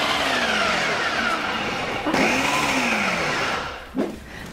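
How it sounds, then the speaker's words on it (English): Eggs for gluten-free bread whir in a blender, its motor pitch sliding and shifting as it runs, close and fairly loud, then stopping near the end with a brief clunk. "All you have to do is blend that up and grab your bread pan."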